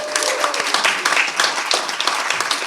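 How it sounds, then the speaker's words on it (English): A live audience applauds a panellist at a music co-operative launch evening, steady dense clapping throughout with a faint voice or two underneath. "One more round of applause."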